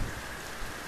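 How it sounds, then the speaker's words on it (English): Hurricane Irma in Punta Gorda, Florida, brings dense, loud rain with rushing wind gusts, a continuous roaring wash that swells slightly at the start and again near the end. "Getting a few rain bands, but some of these gusts are getting pretty sporty."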